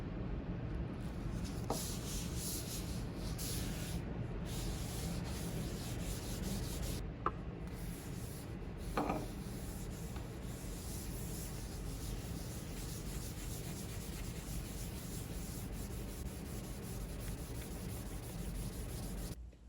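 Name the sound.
rubbing Crimson Oil finish onto maple Telecaster guitar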